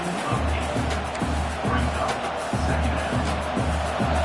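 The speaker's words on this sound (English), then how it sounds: "the crowd coming to life here, trying to help this defense down in the red zone" Football video game stadium crowd noise rising as the defense holds in the red zone, a steady roar with rhythmic low thumps, filling the whole stretch.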